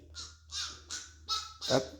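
A child imitates a duck, giving five quick, raspy quack-like calls in an even rhythm, close and fairly loud, with nothing else in the background.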